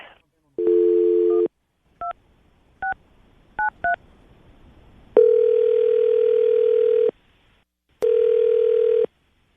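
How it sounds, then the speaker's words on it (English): Dual-tone touch-tone beeps from a phone keypad, a short burst followed by several quick key presses, then a steady dial tone in two long stretches. "We're going to call Deanne right now, Matt."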